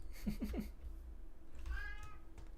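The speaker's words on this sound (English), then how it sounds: "Oh, hi! My actual real life kitty." A pet cat meows once, a clear drawn-out call heard near and fairly loud after a brief stretch of low voices and room noise.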